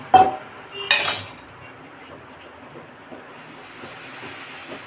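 Batter for kara boondi stirred in a metal bowl, with two loud clattering strokes of the spoon against the bowl near the start, then softer scraping and a steady hiss.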